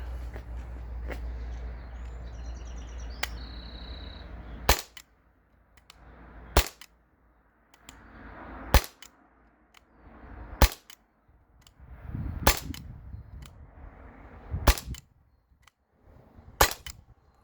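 A Glock 19X Gen 5 BB pistol fires seven sharp, loud snapping shots spaced roughly two seconds apart, each a crisp broadband crack with quiet outdoor ambience and a faint bird between them.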